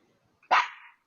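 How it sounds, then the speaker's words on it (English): A single sharp bark from a dog, sudden and fairly close, followed by a short trailing tail and then silence. "So help me that damn dog."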